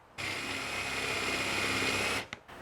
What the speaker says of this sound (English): we're going to countersink it with that Forstner bit